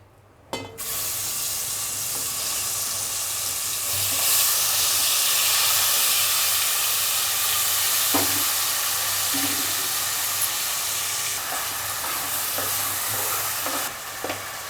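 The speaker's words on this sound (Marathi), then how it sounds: "आता गरम तेल झाल्यावर आपण त्यात मसाला टाकू" Spice masala frying in hot oil for a traditional Marathi crab curry, a loud, steady broadband sizzle that holds for the full stretch, with faint occasional stirring scrapes and a low hum underneath.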